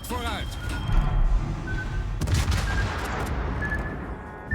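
Video-game airstrike bombs burst in a dense barrage over a sustained roar of blasts and gunfire, with heavy low thumps and a sharp loud impact near the middle, while a voice talks over the din.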